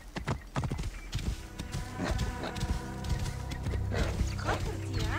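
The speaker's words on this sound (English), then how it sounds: "I wish this horse could go faster, but it's better than nothing." Horse hoofbeats in the video game Assassin's Creed Origins: a running clip-clop of hooves continuing through the whole stretch at steady loudness, layered with game ambience, a possible whinny, and someone talking over it.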